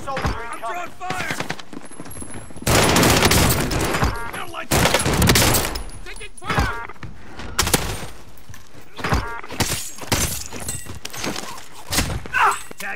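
Rapid bursts of gunfire and explosive blasts fill a Call of Duty: Modern Warfare firefight, loud and dense in the middle, then sparser shots. A voice gives radio-style callouts over the shooting.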